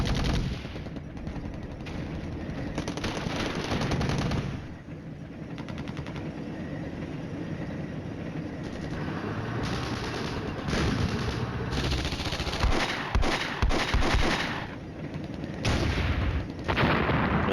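Dense, continuous gunfire from military units in the Flashpoint Campaigns: Red Storm Soviet campaign: rapid machine-gun bursts and heavier cracks, loud and unbroken for the whole stretch, with sharper volleys toward the end.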